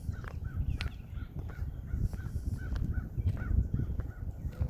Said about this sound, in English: There's a lot of crows over there.